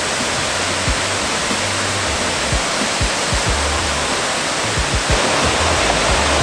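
A loud, constant roar of a jungle waterfall near rapids rushes without pause, thick and close, with faint low thumps now and then beneath it, at Bermejo Waterfalls in Santa Fe, Panama.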